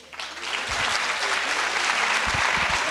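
An audience at a graduation and certificate ceremony breaks into loud, sustained applause that swells quickly and holds steady, filling the hall.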